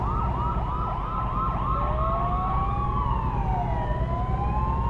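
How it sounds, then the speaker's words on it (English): Police sirens in the American Truck Simulator game wail continuously over a steady low truck rumble, one rising and falling in quick yelps before shifting into slower, sweeping tones, loud and close. "Makes you feel like you're in America with that sirens wailing."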